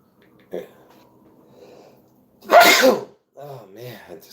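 A single loud, close sneeze bursts out after a quiet stretch with soft breathing, followed by a voice speaking.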